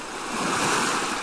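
Sea waves wash steadily against the shore in a continuous broad hiss that swells slightly toward the middle, with a touch of wind and no voices.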